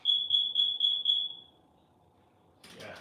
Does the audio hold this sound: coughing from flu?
no